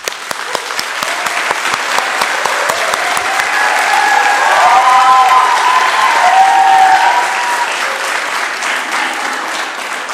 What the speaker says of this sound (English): I ask you to join me, please, in an applause for all of us gathered here.